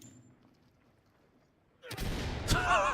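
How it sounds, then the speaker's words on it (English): Flashbang grenades detonate in a tactical police shooter game, one sharp loud bang landing after a quiet stretch, followed by crackling ringing noise and a second burst. "Open and clear with flashbangs"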